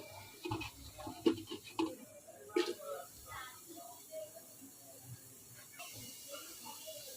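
Chopped onion drops into a hot cooking pot, giving a few short sizzles and crackles amid scattered clatter, faint and close, in a home kitchen.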